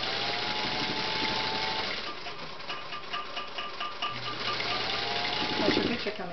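Antique Singer Featherweight sewing machine running on an outdoor mountain porch, a steady mechanical whir with rapid needle chatter throughout, pausing briefly midway, with faint conversation in the background.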